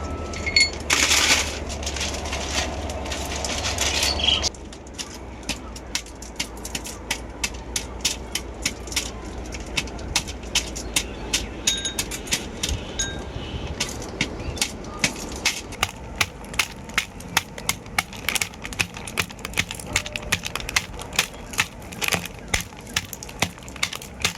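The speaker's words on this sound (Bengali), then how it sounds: "প্রথমে আমি এখানে লেবু চকলেটও নিয়েছি লেবু চকলেটটাই গুঁড়ো করে নেবো" Small lemon-flavoured chocolate candies are crushed by hand, giving a rapid run of sharp cracking and crunching taps close by, with a brief louder rustle early and faint speech in places.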